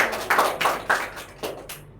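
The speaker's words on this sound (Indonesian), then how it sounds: "Beri tepuk tangan untuk semua." Students clapping in a classroom: a handful of light, scattered claps with uneven spacing, fairly quiet and fading out by the end.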